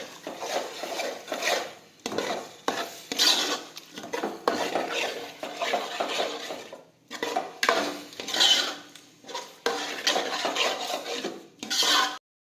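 A spoon scrapes and stirs mashed boiled eggplant and potato bhaji in a pan in repeated rhythmic bursts with short pauses, close and fairly quiet.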